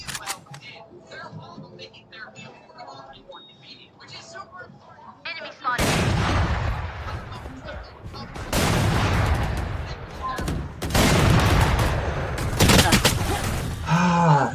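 An Odin machine gun in Valorant opens up after a quieter stretch of game sounds, with loud, sustained automatic bursts broken by short gaps that continue to the end.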